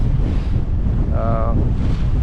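Strong wind buffeting a sailboat out on open water with swell, a loud continuous roar of wind against the microphone and a brief faint tonal whine partway through.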